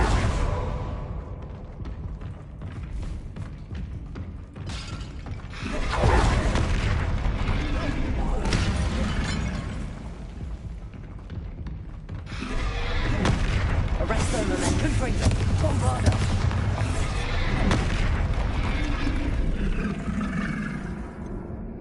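Bombarda spell blasts in Hogwarts Legacy, heavy rumbling booms and whooshes in two long dense stretches, with combat chatter and voices mixed in throughout.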